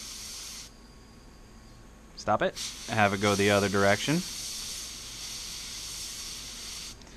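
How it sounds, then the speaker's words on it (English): Compressed air sprays in a steady hiss through a freshly lubricated spinning part over an open area, running under and around brief talk and continuing alone afterward at moderate loudness. "take compressed air, hold it over an open area, and just spray it through."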